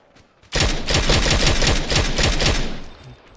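Automatic gunfire in the PUBG video game, a loud rapid burst of shots that starts abruptly and rattles on for about two seconds before cutting off into quiet.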